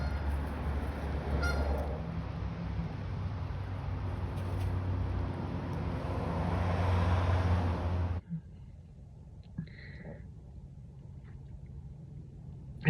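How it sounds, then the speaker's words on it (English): Geese squabble and nip at each other outdoors with crows nearby, giving steady honking over a dense noisy wash for about eight seconds, then a few faint scattered calls. "they're crows bouncing around under geese, and geese are nipping at each other"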